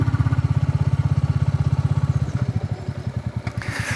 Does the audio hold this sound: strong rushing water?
no